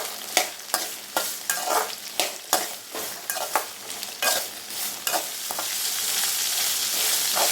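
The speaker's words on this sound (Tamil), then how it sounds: "இந்த மிளகாய் நல்லா எண்ணெயிலேயே வதங்கட்டும்" Green chillies with rock salt sizzle steadily in oil over a medium flame, stirred again and again with a utensil, giving repeated scraping strokes over a continuous frying hiss that grows denser toward the end.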